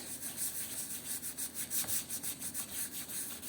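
Rhythmic back-and-forth rasping of fine sandpaper on wood, fairly quiet and close, with strokes repeating steadily several times a second.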